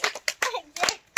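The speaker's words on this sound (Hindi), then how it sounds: "ताली ताली ताली ताली ताली ताली ताली" Hands clap in short sharp bursts, several separate claps spread across about a second, close and fairly loud, during a traditional tribal game in a rural village.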